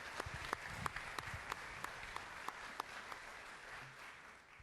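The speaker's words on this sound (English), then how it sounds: "Give them a round of applause," Scattered applause from an audience, with a few sharp claps standing out above a soft, steady patter that fades toward the end.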